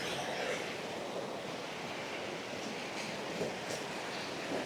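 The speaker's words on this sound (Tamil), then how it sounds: "இந்த சைடு இருந்தும் தண்ணி ஊற்றுது, இந்த பக்கம் தான் தண்ணி ஊற்றுது" Water pours down beside a mountain path as a continuous, even rush, like a steady roar, heard alone with no talking and a slight wind-like texture.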